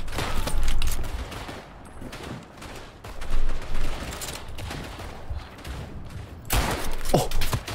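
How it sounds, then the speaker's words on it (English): Gunshots ring out in First World War trench combat in the video game Verdun, scattered reports and volleys over a dense battlefield din, with a sharp close burst near the end. "Oh, that was a shot."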